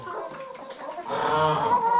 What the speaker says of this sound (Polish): kurki sobie tutaj niech spokojnie jedzą